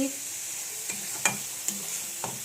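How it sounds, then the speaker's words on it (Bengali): Spices for a soybean curry are stirred and fried in a pan, giving a steady soft sizzle broken by a few light scraping strokes of the spoon. "এই দেখো এখানে সমস্ত মশলা আমি কষিয়ে নিচ্ছি"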